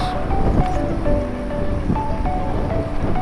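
Continuous cool wind rushing past the microphone while cycling, with a low roar, steady and fairly loud, with faint tonal background sounds underneath.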